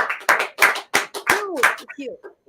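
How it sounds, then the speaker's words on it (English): An audience gives a round of applause after a stage speaking performance, with a few loud distinct claps in uneven rhythm overlapping a voice speaking over them. "Let's give her a big round of applause"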